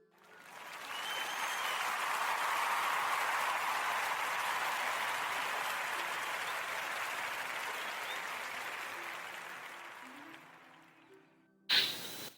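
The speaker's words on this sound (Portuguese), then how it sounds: "eu quero pedir a toda a gente uma enorme salva de palmas" A crowd claps steadily in a sustained round of applause, a dense even patter that holds for several seconds before thinning out and ending, followed by a brief clunk.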